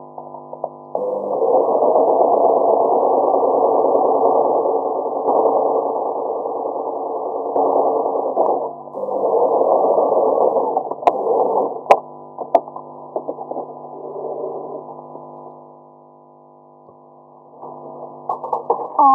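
A sewing machine stitching a shirred dress, a steady muffled buzzing run lasting several seconds, then brief stops and restarts with a few small clicks and knocks, heard close.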